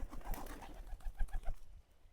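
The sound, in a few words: pigeons cooing, local pigeons being fed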